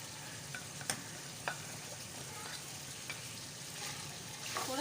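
Liver frying in a pan with spices, a steady low sizzle broken by a few sharp clinks and scrapes of stirring, close and fairly quiet with no talk.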